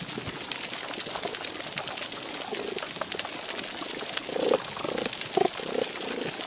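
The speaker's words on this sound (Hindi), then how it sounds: "The first thing that hits you is this sort of crackle of shrimp noise that's all over the place." Dense, continuous crackling of snapping shrimp recorded underwater on a healthy coral reef, an all-over fizzing texture like frying, with a few faint louder pops near the end.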